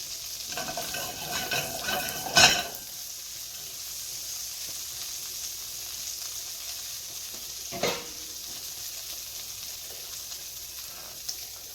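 Creamy mushroom sauce cooks in a pan with a soft, steady sizzle, punctuated by a couple of louder stirring scrapes near the start and middle.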